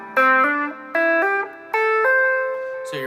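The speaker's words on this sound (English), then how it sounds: "So we asked you to do the A blues pentatonic scale and to use hammer-ons on the way up, which sound like this." Electric guitar playing an ascending A blues pentatonic scale with hammer-ons, picked notes slurring up into higher ones in three legato pairs, each pair ringing clearly and alone with smooth, connected transitions.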